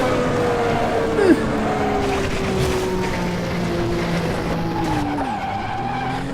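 A race car in a racing video game at Interlagos drives with a steady engine drone, tires skidding and squealing in short bursts, with a brief gliding pitch bend near the start and another toward the end.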